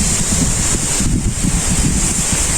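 Strong wind blows across rural Bangladeshi fields and gardens in the aftermath of Cyclone Remal, a steady loud roar buffeting the microphone without pause, carrying no voices.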